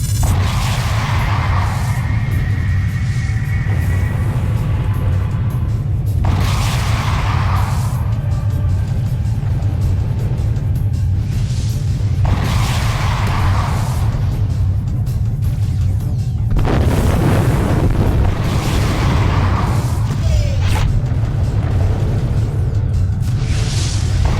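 Trebuchet missiles slam into a warship's engine blocks in the space combat game Freespace 2: repeated booming whooshes arrive every few seconds over a constant, heavy low rumble.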